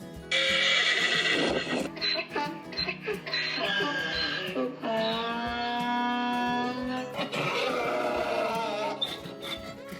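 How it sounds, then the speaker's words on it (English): A mule brays loudly and close, a long harmonic call with rising whinny-like phrases and wheezing breaths, repeated in several bursts across the stretch. "This difference isn't very functional, but we enjoy the mule's bray."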